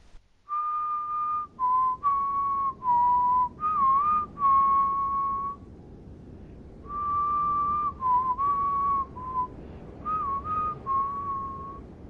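A lone person whistles a tense western duel tune, phrase after phrase of clear, steady notes with a short pause midway, fairly close and alone without talk.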